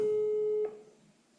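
A single steady telephone tone sounds clearly for over half a second during a Zoom call, then cuts off, leaving faint low background noise.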